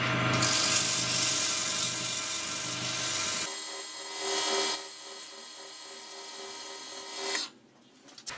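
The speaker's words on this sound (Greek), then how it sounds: "Τώρα σε αυτό το στάδιο θα το γυαλοχαρτάρουμε μέχρι 300." Sandpaper rasps by hand against a wooden jewelry piece spinning on a wood lathe, a loud continuous gritty whir with the motor hum beneath, easing after a few seconds and then stopping near the end.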